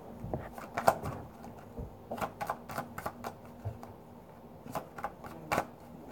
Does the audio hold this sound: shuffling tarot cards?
yes